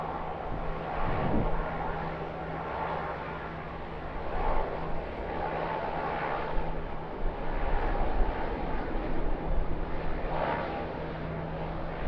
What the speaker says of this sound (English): Finished its engine runs on runway 25.